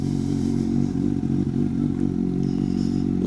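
A Suzuki GSX-S750 motorcycle fitted with a Yoshimura exhaust idles and revs close by, its engine a continuous deep, throbbing burble with small surges.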